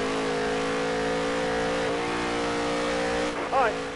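A race car engine holds a steady high drone on a fast qualifying lap in NASCAR Heat 3, its pitch rising briefly near the end, with someone talking over it throughout.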